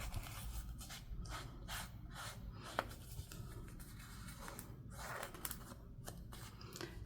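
Distress oxide ink is rubbed over the white edges of paper cards, giving faint, repeated dry scratching and swishing strokes in an uneven rhythm, close and quiet.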